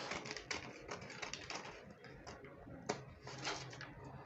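Scissors snip through paper, trimming a dart from a drafted three-part corset top pattern, with a steady run of short crisp cuts and rustling close by, no talk over them.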